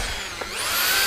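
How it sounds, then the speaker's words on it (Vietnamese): Handheld power drill running while boring into iron, a steady loud high whine close by that rises slightly in pitch and holds without pause. "Khoan sắt này"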